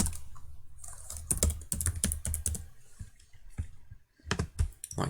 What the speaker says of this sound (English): I can come in and just write some text on here